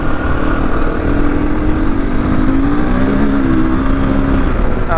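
A KTM 500 dirt bike engine accelerates hard and close, its loud, rising roar climbing steadily in pitch over a few seconds with no talking.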